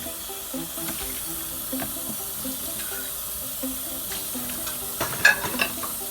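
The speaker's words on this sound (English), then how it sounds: "Just a couple of dishes, but I don't like to see dishes in the sink." Dishes being washed in a kitchen sink: steady running tap water with soft clinks and scraping of plates and utensils, nearby, a couple of louder knocks near the end, no talk.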